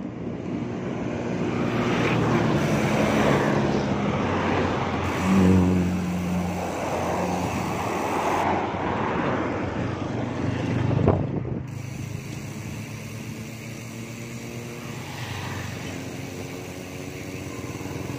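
Motorcycles speed past a roadside waiting shed in Barangay San Blas, a steady loud roar of passing engines swelling and fading, with wind buffeting the microphone.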